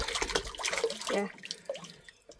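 Water runs from a drinking tap at a museum into a bottle, a close splashing and trickling stream that comes in uneven bursts before easing off.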